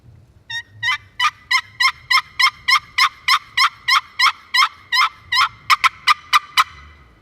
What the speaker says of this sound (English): I'm gonna hit the call a couple times.